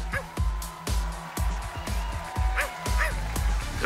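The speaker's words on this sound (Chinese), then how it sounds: "唯一喜欢的就是我的小狗" A small cartoon dog barks in quick, sharp yaps spaced irregularly over a few seconds, close and loud, with some light voice or effects underneath in an animated show.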